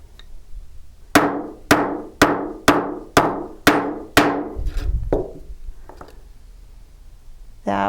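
A hammer strikes a metal stamp on a metal blank in a quick run of about seven sharp, ringing taps, evenly spaced and close, followed by a few softer knocks.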